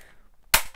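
A single sharp plastic snap of a wireless alarm keypad clicking into its wall mount after a quiet moment, short and close, with no talking.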